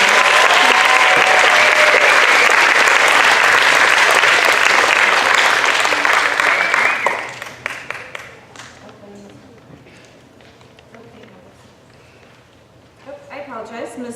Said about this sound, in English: And one more round of applause for our Blackbird Eye.